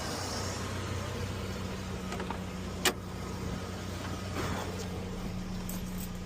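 A 2000 Chevy S10 engine idles steadily after new spark plugs and wires, a low even hum close by with one brief click partway through.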